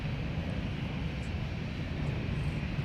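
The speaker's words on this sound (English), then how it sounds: "And now we get to hear those GE90s in orchestra" Air France jet powered by GE90 engines taking off, a steady loud broadband engine roar that holds constant throughout with no talking.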